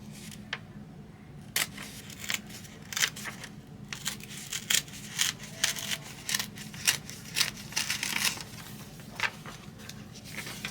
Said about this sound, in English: So I'm going to actually rip